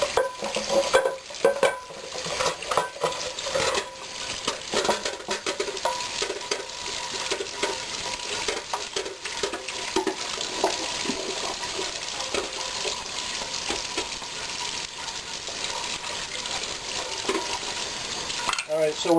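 A cast iron pan is rubbed and scrubbed with water, a continuous close, wet scraping and swishing with small clinks, steady for the whole stretch and with no talk over it.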